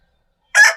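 A single short, loud squawk from a desi chicken on a free-range poultry farm, close by and alone against silence.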